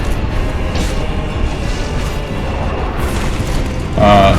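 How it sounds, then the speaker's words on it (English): Rumbling boom from the Four Kings boss charging and unleashing its big explosion attack in Dark Souls, a continuous loud low roar with a sharper burst near the end. "He's charging up there for his big explosion attack."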